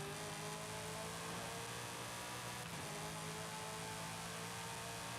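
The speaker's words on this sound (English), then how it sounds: "That is such a nice engine" A race car engine in Forza Horizon 5 drones loudly and steadily throughout, with a high sustained whine and a slight shift in tone partway through.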